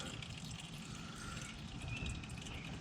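Used oil draining from a Porsche 991 GT3 during an oil change after the filter is removed, a steady low trickling, dribbling flow of liquid close by with a faint high ring, continuous and alone without talk.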